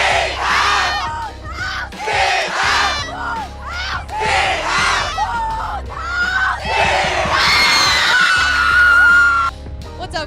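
A group of sports fans shouts a loud chanted cheer together, a run of rhythmic yelled bursts followed by a long sustained scream, close and energetic with crowd noise in the background.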